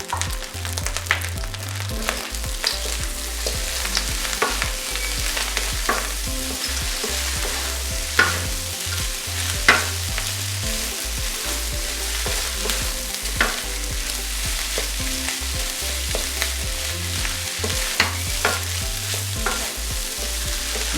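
Pulled pork fried rice with peas and carrots is stir-fried in a hot pan, a constant sizzle broken by rhythmic scraping and clanking of a utensil against the metal, with no voices.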